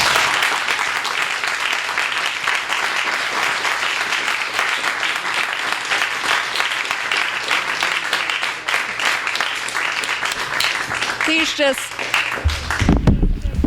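Sustained audience applause at a literary reading honoring author Gideon Lewis-Kraus, dense and steady throughout, with a speaker's voice briefly breaking in near the end.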